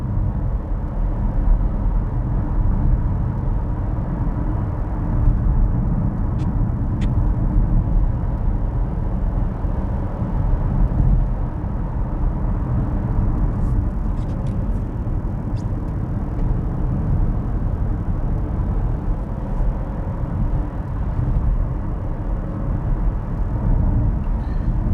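A 2021 Hyundai Kona N Line drives along with a steady, close engine hum and road rumble that holds an even level throughout, with no talking.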